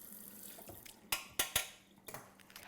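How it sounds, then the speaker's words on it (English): A soup spoon is rinsed under a running kitchen tap, with a soft water hiss broken by several sharp metallic clinks against the sink, close by and fairly quiet. "I'm gonna rinse that off."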